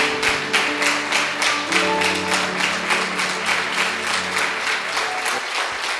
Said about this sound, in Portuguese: Bem forte as suas palmas para Jesus